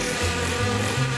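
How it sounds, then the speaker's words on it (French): Buzzing insect drone from a swarm of mosquitoes in an enclosed lab room, a steady continuous whine with wavering pitch, close and fairly loud, no voices. "C'est plein de moustiques là-dedans."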